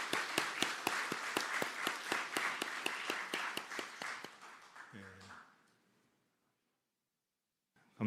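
A congregation at a New Year's Eve church service claps for the combined children's and youth praise team, with steady, even rhythmic applause that slowly fades out around five seconds. A brief low tone follows, and then silence.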